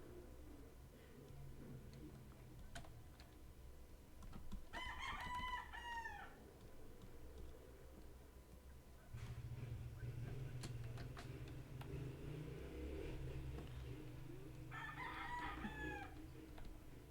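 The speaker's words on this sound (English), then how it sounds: "I don't need a soundboard. I got my chicken, bro." A rooster crows twice, about ten seconds apart. Each call is a distinct, moderately loud cock-a-doodle-doo heard over a low background of faint ticking and room noise.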